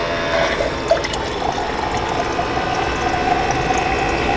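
A water pump losing suction and failing to draw water up, giving a steady, loud watery churning and hissing that runs unbroken throughout with no voices.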